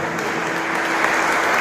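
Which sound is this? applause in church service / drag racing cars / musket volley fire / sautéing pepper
applause in church service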